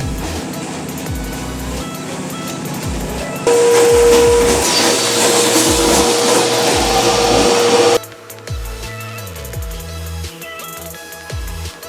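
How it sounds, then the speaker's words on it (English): A sandblaster blasts washed engine cylinder heads from a 2004 Chevy Avalanche 5.3 Vortec V8 in a machine shop, a loud continuous hiss of air and grit that swells louder partway through, then drops back under steady shop machinery rumble. "The heads are washed and headed to the sandblaster."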